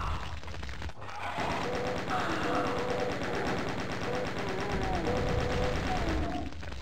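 Rapid, repeated gunfire from the first-person shooter Doom 2, bursts of sharp cracks rattling almost continuously over a droning game soundtrack, loud and close throughout.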